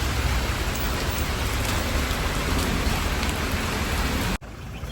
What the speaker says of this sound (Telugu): ఫుల్ వర్షం సో ఇక్కడనే ఆగినాం సో ఇప్పుడు తగ్గుతలేదు